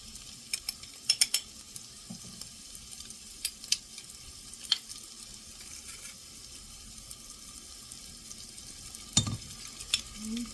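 Six to eight garlic cloves sautéing in a pan for curry make a faint, steady background sizzle, with scattered light spoon clicks and one firmer scrape near the end, no talking.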